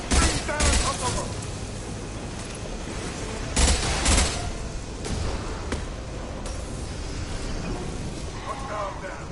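Gunfire in Mass Effect 2 aimed at a loose fuel tank: loud, sharp shots and heavy impacts, with a couple of big blasts early and midway, then steady combat noise beneath shouted voices.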